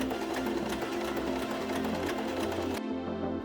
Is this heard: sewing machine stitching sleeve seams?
yes